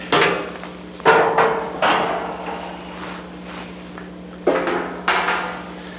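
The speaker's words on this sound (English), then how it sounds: "let's get those doors off there so we can see them a little better" Metal access doors on a 1994 Case IH Axial Flow combine are taken off, producing a series of sharp metallic thunks and clanks, about six of them, close by over a steady low machine hum.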